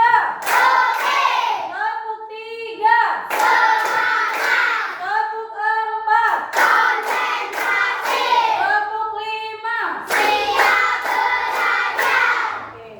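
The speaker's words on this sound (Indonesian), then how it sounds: "tepuk satu, tepuk dua" A classroom of students doing a call-and-response clapping routine, with bursts of clapping separated by pauses; voices chant and talk between and over the claps throughout.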